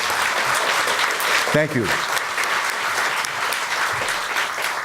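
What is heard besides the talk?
audience applause for the cast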